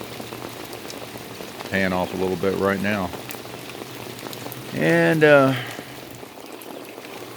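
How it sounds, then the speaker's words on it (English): Rain starting to fall in a garden, a steady soft patter of drops on surfaces running throughout, with someone talking over it in two short stretches. "you can kind of hear the rain starting to"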